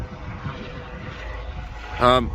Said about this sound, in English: that helicopter is driving me mad. He's just buzzing round.